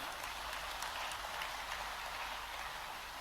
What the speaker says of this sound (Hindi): अरे धन वर्षा हो रही है तो ताली वर्षा भी हो जाए।